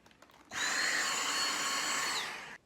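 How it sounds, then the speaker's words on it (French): A vacuum cleaner switches on abruptly and runs for about two seconds as a loud, steady, close whine, then cuts off, with no voices. "Et un petit coup d'aspi."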